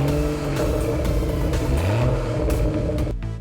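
A stationary turbocharged BMW is revved, its engine note rising and falling with harmonic sweeps while a crackling exhaust burble pops across the upper range, loud and continuous for a few seconds before cutting off abruptly; no one speaks.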